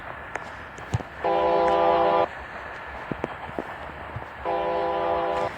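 A roleplay train in a Roblox game sounds two long, steady horn blasts, each about a second, separated by clattering footsteps and clicks.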